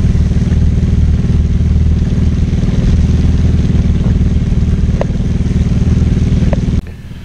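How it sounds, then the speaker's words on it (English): A loud four-wheeler ATV loaded with extra bags on an Illinois farm runs with a steady, throbbing engine rumble, close by, which drops away sharply near the end. "I load up the four-wheeler with 3 extra bags, and let's hit the dusty trail."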